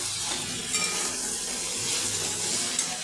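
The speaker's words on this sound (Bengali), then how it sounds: "ভালো করে নাড়াচাড়া করবো" Spice masala for a fish curry with potato and tomato being stirred in hot oil, a continuous close sizzle with scraping spoon strokes and faint clinks against the pan.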